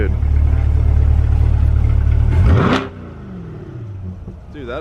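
A 1400hp R33 Skyline GTR engine roars loudly and steadily, then its pitch drops sharply and it settles into a lower, rougher idle.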